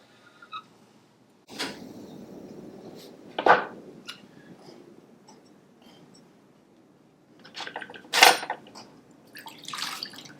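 Water added to a large clay bowl being trimmed on a pottery wheel, heard as a few close, brief splashes and wet drips separated by quiet stretches, with soft smoothing rubs between them.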